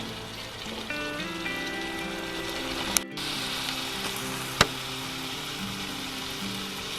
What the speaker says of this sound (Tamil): இது கொஞ்ச நேரம் மூடி போட்டு கொஞ்ச நேரம் வதக்குங்க நல்லா.